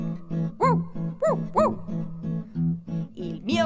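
A small dog yaps in a quick, rhythmic series of high, rising-and-falling barks over a steady low hum, close and fairly loud.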